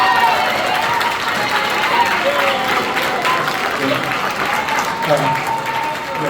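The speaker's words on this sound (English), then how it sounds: "give a round of applause to Mayor Lightfoot for the hard work" Audience applause at a Village of Dolton board meeting honoring a former mayor, sustained even clapping from a room of residents with faint voices mixed in.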